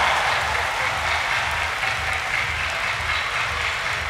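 A crowd at a show jumping event, the Longines Speed Challenge, applauds a rider with dense, steady clapping and cheering that holds at an even level throughout, with no talking.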